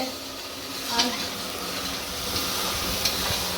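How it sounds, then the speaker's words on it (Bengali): Koi fish frying in oil in a pan, giving a steady broadband sizzle and hiss with a few light stirring clinks, close and moderately loud throughout. "এখন তেল করে রান্না হচ্ছে"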